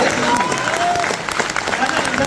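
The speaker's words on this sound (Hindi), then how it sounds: "तो जोरदार एक बार ताली होना चाहिए" An audience at a seminar breaks into continuous, dense applause, a steady roar of many hands clapping, with a faint crowd murmur and a voice underneath.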